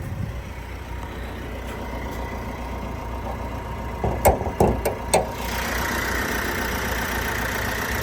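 Steady idle of a 2016 Opel Astra K 1.6 diesel engine, viewed under the hood. The rumble is continuous and close, with a few sharp clicks and knocks around the middle.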